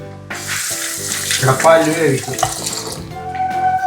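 Coconut milk being squeezed by hand from freshly ground coconut in a home kitchen while making liver curry, giving a wet trickling and splashing of liquid close by, mixed with background music-like tones.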